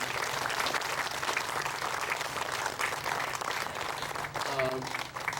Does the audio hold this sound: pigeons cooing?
no